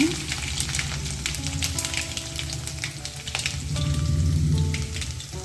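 Mustard seeds and garlic sizzle in hot oil in a pan for a red spinach stir-fry, a dense, steady crackling hiss up close with faint sustained tones in the background.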